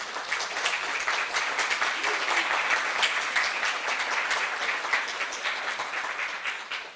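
An audience applauds continuously at a conference award nomination, a dense patter of many hands clapping that holds steady for several seconds.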